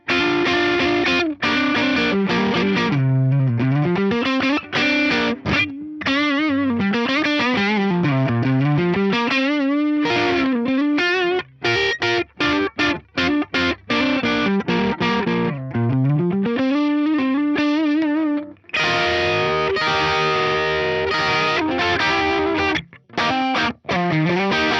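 Bluesy electric guitar played through a Vox-style amp model on an Axe-Fx III with the drive pushed: continuous overdriven licks with bends and sustained notes, loud and alone.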